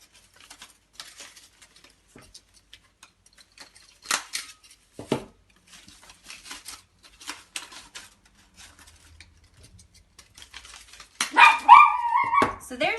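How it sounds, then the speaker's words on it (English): A dog barks a few times at a distance in a home where a paper flower is being made, short sharp yelps scattered among paper rustling and scissor snips, with a louder burst of barking at the end. "The dog's barking."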